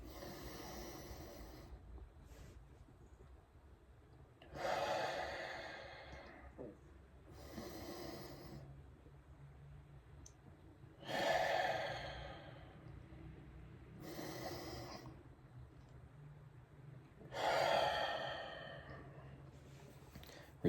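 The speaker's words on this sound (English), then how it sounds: "you're gonna take 3 deep breaths in through the nose. You're gonna hold for 4 seconds and do a long exhale out" Three slow cycles of deep breathing: long inhales drawn in through the nose, then extended audible exhales, each cycle spaced several seconds apart, close and fairly soft in a quiet room.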